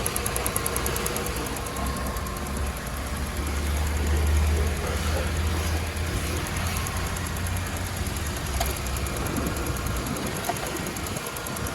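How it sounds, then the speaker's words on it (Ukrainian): A Skoda car engine idles with a steady, even rumble that stays constant and close throughout, with no voices. "Двигун працює рівненько, зайвих шумів немає."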